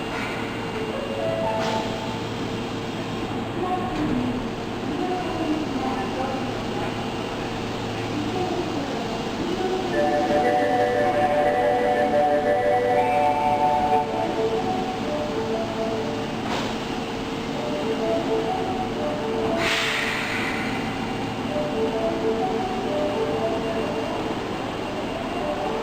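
An Osaka Metro Tanimachi Line subway train pulls into a platform with a long, steady rolling rumble and faint metallic whines rising and falling. Moderately loud, it carries on throughout, with occasional distant station sounds.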